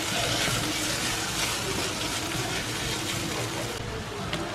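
Steady rushing pour of about half a cup of water into a pan of heating leftover chicken, close and continuous, without pause.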